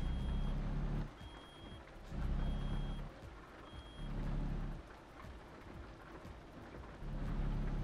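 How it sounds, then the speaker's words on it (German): Steady rain pours with rumbling thunder in Euro Truck Simulator 2, heard from a truck cab under a low engine drone, while a repeating warning beep pulses in the background. "Es regnet nämlich ganz schön."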